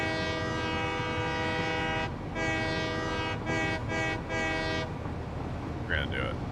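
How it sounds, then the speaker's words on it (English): Loud sustained train horn in the video game Satisfactory, a steady harmonic blast with brief breaks near the end, over continuous rumbling rail noise as a train races toward a crash. "Hey, chat, you want to see a train crash?"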